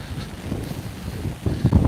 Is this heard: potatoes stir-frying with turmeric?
no